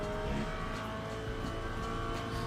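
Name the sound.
race car engine buzzing on shifts, from video game Le Mans Ultimate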